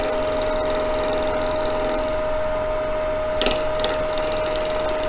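A skew chisel cuts a piece of wood spinning on a lathe, giving a continuous rough scraping hiss over a steady motor whine, with a brief louder catch near the end.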